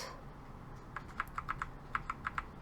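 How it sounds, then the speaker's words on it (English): Computer keyboard arrow keys pressed during work in Adobe Illustrator, a run of about ten crisp, close clicks in quick uneven succession over quiet room noise. "use my arrow keys"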